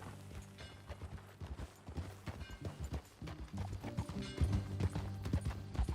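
Rhythmic clip-clop of horse hooves trotting along in Red Dead Redemption, fairly quiet, with a steady low background tone and a faint murmur of voices.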